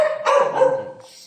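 A single dog barks close by, one sharp tonal bark that fades into a brief whine-like tail, heard on its own.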